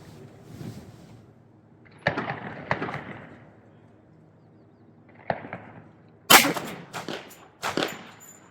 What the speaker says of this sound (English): 200 grain hard cast, 3 shots with each gun, see which one it does better with